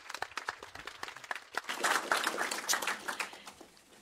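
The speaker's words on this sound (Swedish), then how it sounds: "En applåd." Audience clapping at a Swedish panel debate on refugee reception: scattered individual claps swell into fuller applause midway, then thin out again, fairly faint overall.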